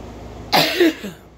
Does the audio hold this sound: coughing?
yes